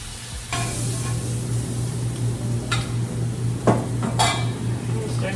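Seasoned food sizzles steadily in a frying pan while it is stirred, with a few sharp utensil scrapes and clinks against the pan breaking through the constant hiss.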